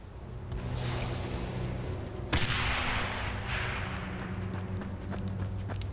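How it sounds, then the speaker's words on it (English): Distant gunfire in the Dying Light zombie game, a few faint cracking shots over a steady low rumbling ambience, one sharper report standing out midway, no voices. "Are they shooting at me?"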